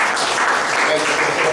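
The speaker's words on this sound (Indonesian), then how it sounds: "Kita tepuk tangan buat Tuhan ini." A church congregation claps together in steady, dense applause that fills the room at even loudness throughout.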